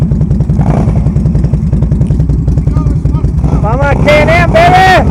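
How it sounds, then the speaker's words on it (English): A Can-Am ATV engine drones loud and close while riding off-road, rough and throbbing with wind buffeting the microphone, and shouting voices break in near the end. "That's Can-Am power, baby."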